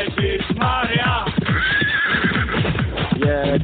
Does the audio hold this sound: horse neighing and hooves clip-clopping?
yes